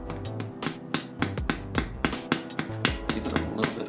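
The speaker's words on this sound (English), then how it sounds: "chisel it out" Repeated metal-on-metal hammer strikes on a chisel while cutting out a part during Harley Dyna engine disassembly, close and loud, in an uneven rhythm of roughly a dozen blows with ringing tails.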